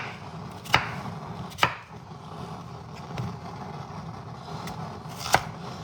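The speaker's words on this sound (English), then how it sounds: "I'm cutting like half-inch, about a half-inch pieces down" A kitchen knife cuts quartered potatoes into half-inch pieces on a board, a few sharp separated chops over a low steady background hum.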